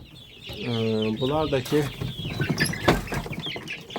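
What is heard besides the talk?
chicks and chickens clucking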